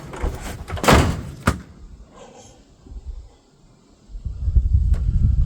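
A custom spoiler flap on a rat rod tailgate being lifted and closed, giving a couple of sharp metallic thunks and slams early on, then quieter shuffling and a low rumble.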